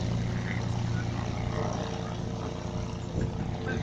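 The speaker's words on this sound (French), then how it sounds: "Au décollage, un avion mythique." A legendary propeller airplane takes off at the Aéro Folies 2016 air show, a loud, steady engine drone with broadband roar filling the whole clip and no clear break, heard mid-distance amid outdoor crowd noise.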